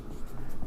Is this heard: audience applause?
no